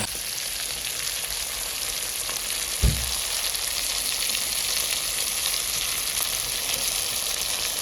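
Chicken pieces sautéing in a red spice masala in a pan give a steady, close sizzle and crackle throughout, with one brief thump from stirring partway through.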